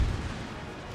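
Cannon fire in a strategy video game: a deep boom at the very start that rolls into a sustained rumbling wash of battle noise, loud and continuous, with no talking.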